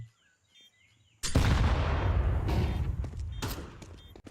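A grenade explodes in a Counter-Strike esports match, a sudden loud blast after near silence with faint birdsong, then a long rumbling decay with scattered sharp cracks.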